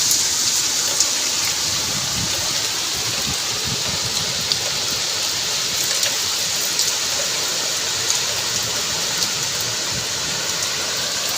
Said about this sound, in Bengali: বেশ বৃষ্টিটা হচ্ছে